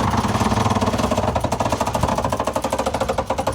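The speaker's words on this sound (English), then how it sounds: "As you can hear, electric winches." A Lewmar self-tailing electric winch hoists a crew member up a sailboat mast. It gives a loud, rapid, rhythmic mechanical chatter that holds steady throughout, with no voices.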